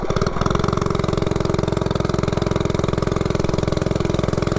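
A 98cc engine with a billet flywheel and an aggressive cam runs hard during a 0 to 30 pull, its loud, fast, even firing pulses throbbing continuously from close range.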